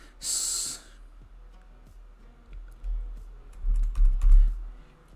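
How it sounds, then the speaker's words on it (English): Keys clatter on a computer keyboard at a Windows PC as a short word is typed into a search box, a few light clicks that end in a quick, louder burst of taps, with breathing audible. "right here into the search option we're gonna type task, just like this"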